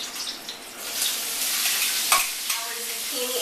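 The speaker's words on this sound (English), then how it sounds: "Our zucchini is cooking." Zucchini frying in olive oil in a pan, a steady broadband sizzle with a couple of brief clinks or stirs near the end, close and continuous with no talk.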